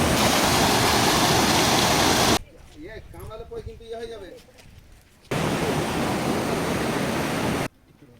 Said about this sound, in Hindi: यहाँ मेन वाटरफॉल